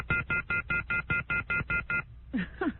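Eleven rapid, evenly spaced telephone keypad tones beep in a steady rhythm, then a short burst of garbled tones follows on a studio phone system.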